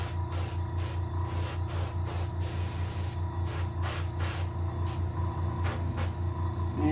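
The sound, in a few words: paint being sprayed onto a green sunfish taxidermy mount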